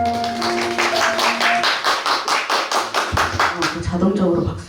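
An audience claps at an artist talk concert with a pianist and a vocalist. The clapping is steady and fairly even, a faint held tone sounds at the start, and voices come in toward the end.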